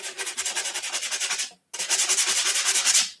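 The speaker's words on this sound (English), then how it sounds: "I just had this sanding block and I don't even know what like grit it is" A sanding block of unknown grit rubs back and forth over drywall compound smoothed onto papier-mâché, a rapid, even scratchy rasping close up, in two bursts separated by a brief pause.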